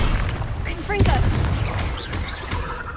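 A fiery Confringo spell blast cast in the video game Hogwarts Legacy, heard as a loud, booming burst near one second, mixed with crackling impacts and gunfire-like cracks over a dense background of game sound and a faint voice.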